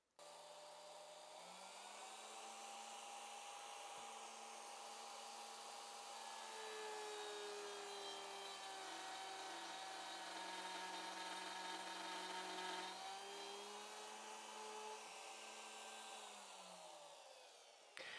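Router cutting a shallow dado in wood, a steady high-pitched motor whine that spins up, holds a sustained tone with slight pitch shifts under load for about fifteen seconds, then winds down.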